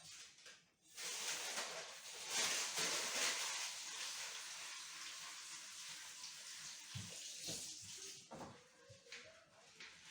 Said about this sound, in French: Voilà, je les ramollis sous l'eau.